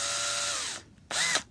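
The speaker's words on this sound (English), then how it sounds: "Just drill a few holes around it." Power drill boring holes in the wood of an antique chair during restoration, one long whirring burst that winds down, a short pause, then a second shorter burst, close and loud.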